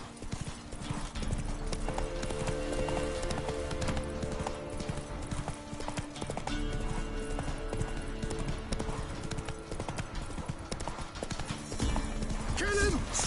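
Roach, a horse in The Witcher video game, trots with steady clip-clopping hooves throughout, mixed with music and game sounds, and a brief neigh near the end.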